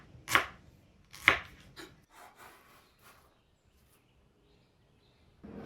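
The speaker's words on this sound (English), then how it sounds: "Start by chopping 1 medium onion." A kitchen knife chops a medium onion on a cutting board, with two sharp, close strikes followed by a few lighter cuts and rustles, a quiet pause, then another knock at the very end.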